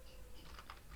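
Quiet keystrokes on a computer keyboard, a short burst of light clicks typed while entering a command, faint and close.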